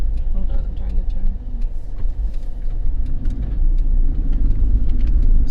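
A car drives along with a steady low engine and road rumble, with faint clicks and handling noises over it as it turns; a voice is present at times.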